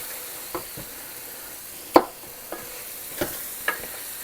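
Frozen cream cheese melts and cooks in a pan for a homemade pasta meal. It gives a soft, steady sizzle, broken by a few sharp clicks and scrapes of stirring, with no voices.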